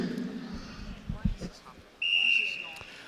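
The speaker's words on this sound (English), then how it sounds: "Competitors on the referee's whistle." A referee's whistle shrills at the start of a 400 kg tyre flip race at a World's Strongest Man strongman event. The whistle enters sharply near the end and holds as one loud, sustained blast, with brief crowd and arena noise before it.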